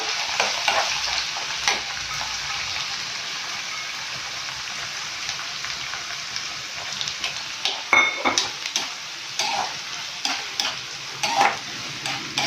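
Okra sizzles in a pan with onion and green chillies, a dense steady frying hiss broken by scraping stirs and clatters that grow busier toward the end, close and without voices.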